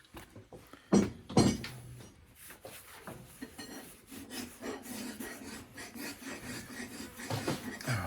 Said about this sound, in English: So I'm going to clean the surfaces with the acetone.